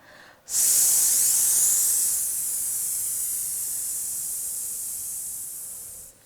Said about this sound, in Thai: แล้วค่อยๆ ผ่อน ลม ออกมาแบบ ช้า ๆ นะคะ